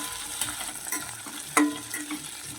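Onions frying and being stirred in a pan for a lentil-based potato curry (aloo dum), with soft crackling, sizzling and occasional scraping stirs, one sharper clank near the middle, no talking.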